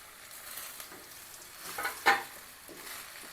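Soaked sabudana with crushed peanuts sizzles softly in a pan while a spoon stirs it, a faint steady frying hiss with a sharper scrape near the end.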